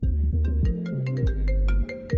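A mobile phone ringtone plays a bright, repeating electronic melody of quick notes, close and loud, with no talking over it.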